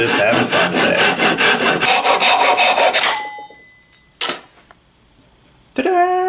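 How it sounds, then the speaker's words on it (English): A hand saw cuts through wood with fast, even rasping strokes for about three seconds, close and loud, then stops; a couple of brief clatters follow. "we are going to saw this sucker down"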